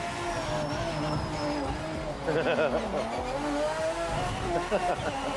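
Race cars in the video game Project Motor Racing roar steadily with engine drone as tires squeal and skid in wavering bursts, loud and continuous throughout.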